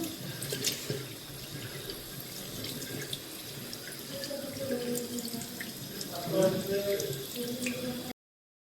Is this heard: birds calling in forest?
no